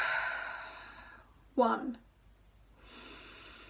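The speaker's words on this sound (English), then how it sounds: "and I'd breathe in" A single deep inhale through the nose, short and fairly close, set between a calm speaker's counting during a relaxation breathing exercise.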